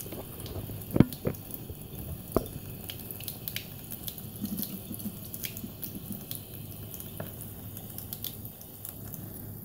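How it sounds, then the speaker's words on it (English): A cat paws and splashes at water streaming from a running sink faucet, a steady soft flow broken by sharper splashes and drips, close and quiet with no talking. "Why use your mouth when you can just splash the water around with your paw?"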